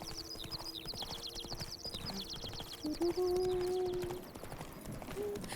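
Horses in The Witcher 3 video game clop steadily at close range while a horse whinnies partway through, with faint game ambience underneath.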